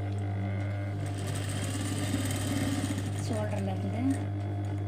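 A sewing machine hums steadily while stitching a crop top, its motor drone continuous and close, with a voice talking over it.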